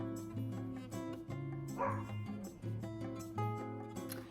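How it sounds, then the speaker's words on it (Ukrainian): A dog barks and yips in short bursts over a steady background of tonal music, the barking fairly close but partly buried in the mix. "Я сподіваюся, що він зараз перестане гавкати"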